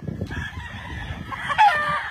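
A farm rooster, a gamecock of Kelso line, crows once loud and near, its call rising toward the end over steady background clucking and rustle.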